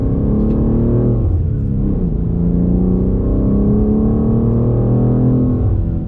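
BMW M2 engine pulling hard on a Tour Auto rally stage, a loud, steady in-car roar with rising and shifting harmonic tones as the throttle reopens after braking, continuous throughout with no talk.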